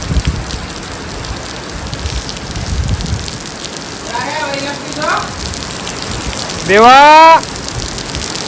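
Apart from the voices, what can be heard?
rain falling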